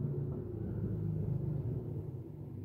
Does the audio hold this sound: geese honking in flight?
no